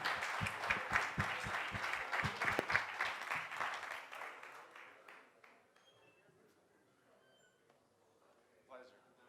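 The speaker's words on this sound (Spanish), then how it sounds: "Fuerte aplauso." An audience at an evening talk on vehicles and 5G networks gives a loud burst of clapping that fades over about four seconds into quiet, with a few scattered claps and a brief voice near the end.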